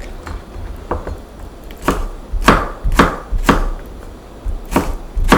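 A knife chops green onion and cheongyang chili peppers on a board, with loud, crisp thuds coming in uneven bursts, some strokes close together and others spaced apart.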